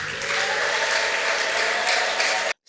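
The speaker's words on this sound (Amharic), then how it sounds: "እልልታ፣ ጭብጨባ" A large crowd claps steadily and densely with high ululation woven through, loud and continuous for about two and a half seconds before cutting off abruptly.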